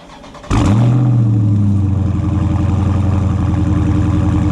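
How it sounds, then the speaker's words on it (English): A 2019 Dodge Charger Scat Pack's factory exhaust fires up and revs sharply, then settles into a loud, throaty burbling idle close by. "I'll give you guys a nice little sound of this exhaust."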